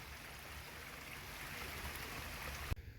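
Creek water flowing steadily over bedrock in a streambed, a continuous near rushing wash that cuts off abruptly with a soft bump near the end.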